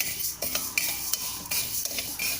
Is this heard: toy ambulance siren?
no